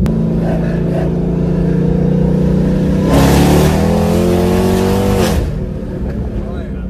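A 1,000-horsepower drag car engine idles with a loud, steady harmonic rumble, then revs sharply for about two seconds before dropping back, heard up close with people talking over it.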